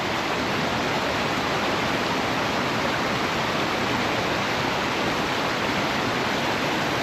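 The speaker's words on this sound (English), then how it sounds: "I love that sound of water. And I mean, it's coming from everywhere here." Water rushes continuously around waterfalls and caves on a summer hike, a dense, steady roar with no breaks, heard close and evenly loud and coming from all sides.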